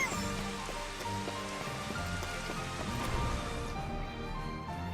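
Rain falls in the Final Fantasy XV Platinum Demo video game, a steady, moderately quiet patter of drops on surfaces, with faint tonal game sounds underneath and no talking.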